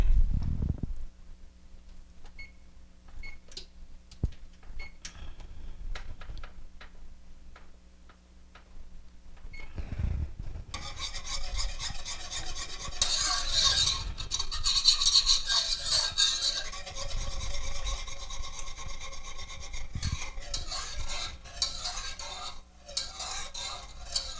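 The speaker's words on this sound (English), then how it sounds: "And I still have it on medium-low heat, and I'm whisking it." Chocolate pie filling whisked in a pot over medium-low heat, a steady rapid ticking and scraping of the whisk against metal that grows busier and denser partway through, with no voices.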